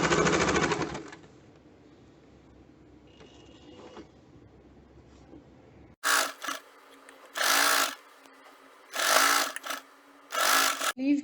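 Sewing machine stitching a fabric strip onto a garment sleeve, starting with a short run, then a quiet pause before several loud, close bursts of rapid mechanical stitching separated by brief stops.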